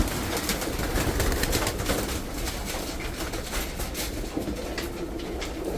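Pigeons coo in a loft housing many eggs and chicks, a steady, dense murmur of overlapping calls lasting throughout with no voices.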